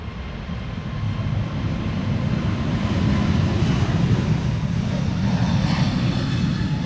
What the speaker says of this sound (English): This is an A321neo.